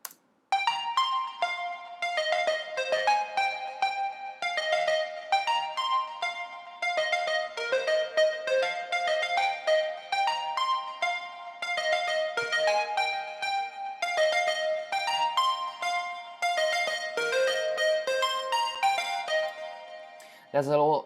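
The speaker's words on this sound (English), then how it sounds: "the melody that I tried to replicate on my own sounds like this basically." A bright synth melody remaking a song plays steadily for about twenty seconds, layered notes in a bouncy pop rhythm, loud and alone with no voices.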